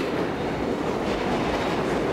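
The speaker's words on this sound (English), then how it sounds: "We missed our train." A train rumbles steadily past on a Manhattan rail line, a dense, continuous roar of wheels on track heard close and loud with no other sounds.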